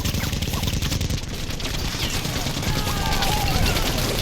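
Dense machine gun strafing from a war film set at Pearl Harbor, a loud continuous fusillade of rapid gunfire that fills the whole stretch with heavy, rumbling noise.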